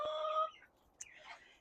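A chicken clucks in a garden run behind an old chicken coop, a short drawn-out call followed by a sharp peep and a softer squawk, near and moderately quiet.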